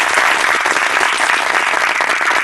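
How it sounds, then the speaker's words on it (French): An audience at a TEDx talk in Cotonou claps loudly and steadily, a dense close wash of applause with no voices over it. "Applaudissez-vous alors."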